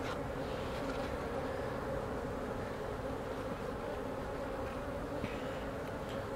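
Honey bees from an opened queenless hive buzz in a steady, dense drone that stays even and close throughout, with no talking.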